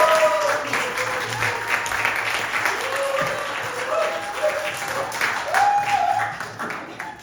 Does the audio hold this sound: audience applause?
yes